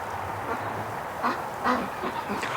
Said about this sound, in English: I love when the ducks answer me back